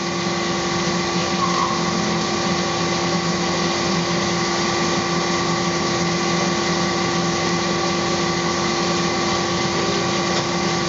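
A milling machine cuts a golf putter head with a steady, droning mechanical whine and constant hum that holds evenly throughout, with no talking.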